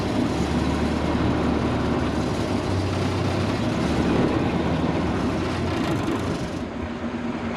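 An old 1929 Ford Model AA truck rolls and drives after decades of sitting, giving a steady rumbling engine and road noise with rattling, loud and continuous throughout.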